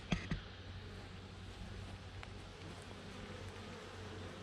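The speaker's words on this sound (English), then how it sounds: "Right next to the compost bins, we have our bees." Honeybees hum softly around beehives beside garden compost bins, a faint steady buzz over outdoor ambience, with a couple of brief knocks near the start.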